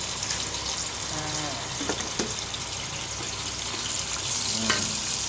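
Eggs, two of them, frying and sizzling in a pan for stir-fried instant noodles, giving a steady close hiss with a few brief clinks and stirring scrapes; no talk.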